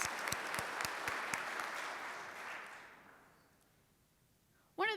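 Applause from members at a Rotary club meeting, a dense round of clapping that fades out over a few seconds into near quiet before a sudden sharp sound at the very end.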